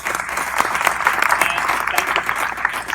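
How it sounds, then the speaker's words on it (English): An audience at a talk on charting a path to success gives the speaker steady, dense applause that holds at an even level for a few seconds. "So I want to give her a round of applause first."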